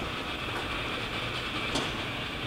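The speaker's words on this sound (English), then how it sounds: "We're running right now, low range, we're going up" A Hardinge super precision tool room lathe runs in low range and speeds up, producing a dense, steady mechanical roar with broad rushing noise that stays loud and even throughout, with no voices.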